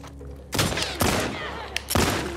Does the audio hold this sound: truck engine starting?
no